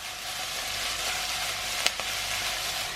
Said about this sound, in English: Now we're only going to stir fry this for about 3-4 minutes.